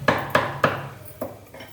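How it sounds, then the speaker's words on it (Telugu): Cumin seeds and garlic are pounded coarsely in a bowl, giving sharp, close knocks. Three evenly spaced blows come first, then two lighter ones after a short pause. "ఇప్పుడు ఈ జీలకర్ర, ఈ వెల్లుల్లిపాయలు చక్కగా ఈ గిన్నెలో వేసి మరి కచ్చా బచ్చాగా దంచేస్తానండి"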